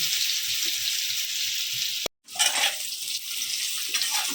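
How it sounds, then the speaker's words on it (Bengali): Small new winter potatoes fry in hot oil in a pan, giving a loud, steady sizzle that cuts out briefly, then resumes with a burst of crackling. "আলুগুলোকে একটু লাল লাল করে ভেজে নেব"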